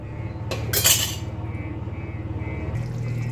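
A metal plate is set down as a lid over drumstick pods cooking in a pan, giving a bright clattering clank about a second in. A steady pulsing hum runs underneath, and there is no talking.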